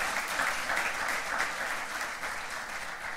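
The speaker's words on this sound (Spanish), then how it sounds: "Un fuerte aplauso para ellas también." A conference audience at a sustainable tourism session in Aysén, Chile gives a brief burst of dense, steady applause throughout.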